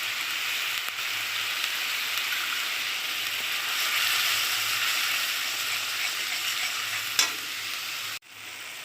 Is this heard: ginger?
yes